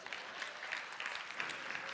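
Brief stretch of audience applause during a talk, a faint, distant patter of many hands clapping with no voices over it.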